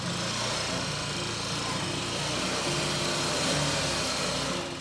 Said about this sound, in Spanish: Lo que más llama la atención es que los inventos de Jonathan, como este tractor, han sido creados con materiales reciclables o piezas que sencillamente otros desechan.